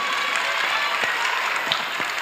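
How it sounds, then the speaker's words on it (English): Audience applause fills an awards-night ceremony at a film festival, a steady dense wash of many hands clapping at moderate volume, sustained without pause. "Let's please give a warm round of applause to everyone."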